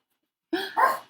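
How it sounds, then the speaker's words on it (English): A dog gives two quick, fairly close barks in a row, a short yipping pair breaking an otherwise silent moment indoors. "Sorry about my dogs."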